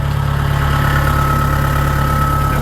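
A used Kubota DC70 combine harvester, year 60 and fitted with its original engine, idles steadily up close with a loud, even low rumble and a faint whine riding above it.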